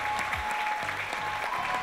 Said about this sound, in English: put your hands together and give a round of applause for Marvick Dixon.